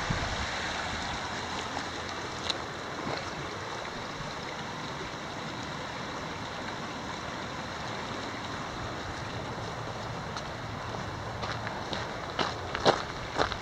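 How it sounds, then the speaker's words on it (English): A creek flows beside a hiking trail on a loop toward South Sister, giving a steady rushing water sound, with footsteps crunching along the trail, especially toward the end. "There's a creek again."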